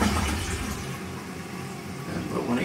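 A household toilet flushes in a loud, rushing gush of water close by, the swirl and drain continuing steadily for a few seconds with a voice briefly heard alongside.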